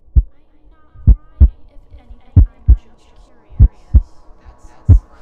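Pounding heartbeat effect: loud, deep, close double thumps repeating in a steady lub-dub rhythm, about five beats in quick succession with no talking.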